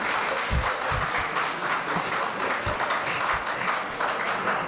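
A church audience breaks into sustained applause, a thick wash of many hands clapping at steady loudness for several seconds, with no pause or fade.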